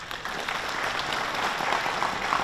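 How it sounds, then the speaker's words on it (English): Steady, moderately loud applause from a seated audience fills the hall at the opening ceremony of the World Chinese Economic Forum, an even patter of many hands clapping. "请让我们再次以热烈的掌声"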